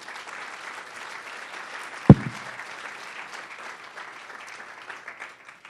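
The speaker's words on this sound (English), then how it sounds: "Let's give it another round of applause." Audience applause after a documentary screening sounds as a soft, distant patter of clapping across the whole stretch, with one sharp thump partway through.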